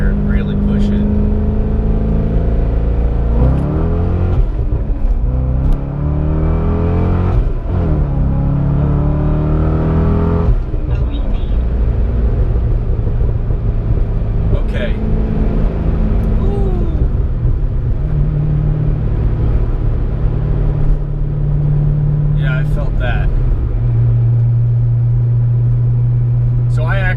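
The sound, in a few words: C6 Corvette accelerating hard out of a U-turn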